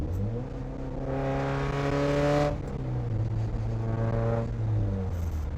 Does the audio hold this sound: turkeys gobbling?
no